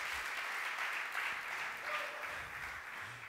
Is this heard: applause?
yes